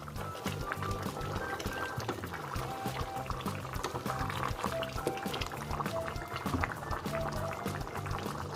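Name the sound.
soup boiling in a pot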